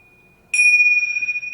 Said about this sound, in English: You could use tuning forks. You could also use Tibetan bells.